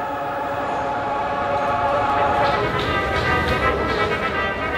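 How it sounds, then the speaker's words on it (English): A train at Kazansky railway station in Moscow gives a steady, loud rumble with a broad mechanical roar and faint higher squeals, continuous throughout with no talk. "This is the Kazansky station in Moscow for destinations south and east."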